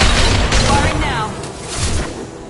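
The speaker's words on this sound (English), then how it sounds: "Firing now." Loud gunfire and booming blasts in the video game Mass Effect 2, a heavy burst of shots up front that fades slightly, with combat noise continuing behind.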